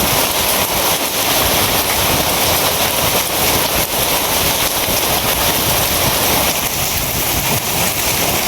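Heavy rain falls over farm fields in a loud, unbroken roar with faint gusty buffeting, steady for the whole stretch and with no voices.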